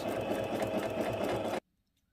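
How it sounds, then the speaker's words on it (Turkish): A sewing machine stitches a bow, running steadily with a fast rhythmic mechanical whirr and clatter for about a second and a half before stopping abruptly into near silence. "Şöyle bir makine ayağıyla dikiyorum."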